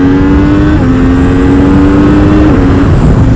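MV Agusta F3 800 RC motorcycle engine revving loud and close, a steady high-pitched engine whine that holds and shifts slightly in pitch before cutting off abruptly at the end.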